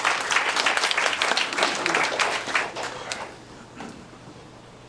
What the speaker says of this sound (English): Henry, give him a hand of applause,